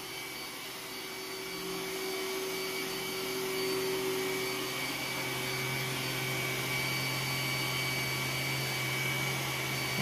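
A Roomba s9 robot vacuum cleans high-pile carpet, humming steadily at close range, its motor whine and brushing drone continuous and even, with no talking.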